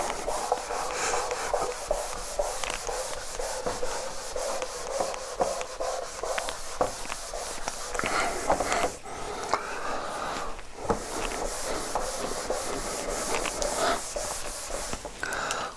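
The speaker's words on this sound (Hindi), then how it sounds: "ये मैं ऊपर थोड़ा रब करता हूँ" Steady scrubbing as writing is rubbed off a board in a chemistry class, a continuous close rasping rhythm with brief pauses, heard mostly on its own.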